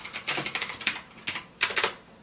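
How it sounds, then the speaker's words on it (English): Brisk typing on a Yingkeer Y11 mechanical gaming keyboard with blue switches, a run of sharp, close clicks in uneven bursts with short pauses between, crisp and alone. "You're still getting that satisfying click with every key that you type."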